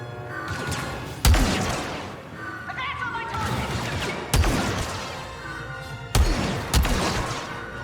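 Three or four sharp gunshots crack out at intervals over a busy background of Star Wars Battlefront 2 game sounds and muffled action, each shot loud and abrupt.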